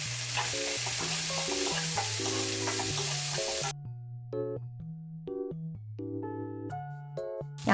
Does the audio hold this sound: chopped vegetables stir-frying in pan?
yes